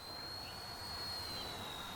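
An XK WLtoys K127 radio-controlled helicopter flying outdoors in wind, a steady whirring drone with a thin high whine, constant and moderately faint.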